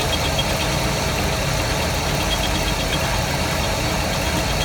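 Port engine of a Uniflite 38 boat idling steadily with a faint whine from the impeller pulley, a loud, close, continuous rumble and drone with no breaks and no voices.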